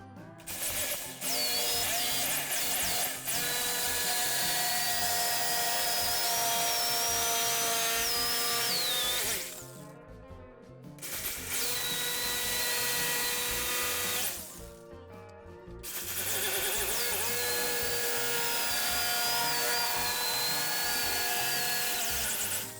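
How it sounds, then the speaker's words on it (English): A jigsaw cuts through a panel for a Raspberry Pi 4 bar top arcade cabinet, giving a loud, steady buzzing whine that runs without a break and stops twice for about a second before it starts again. "I'm just going to use the jigsaw"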